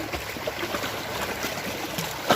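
Sea water washing against the shore, a steady broadband hiss and gentle lapping that stays even throughout, with a slightly louder surge at the very end and no talking.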